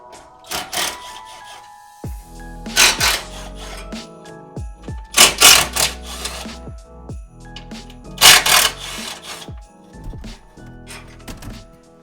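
An under tray is pried and pulled off a Ford F150 EcoBoost 3.5 during an oil change, giving four loud bursts of plastic scraping and rubbing, separated by quieter clunks and handling noises.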